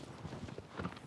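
Horse hooves walking in the video game Shadow of the Colossus on PS4, a faint, muffled clip-clop rhythm heard alone under low background noise.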